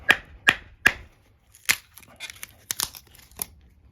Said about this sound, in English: sometimes you want to use the tip of your knife to split some kindling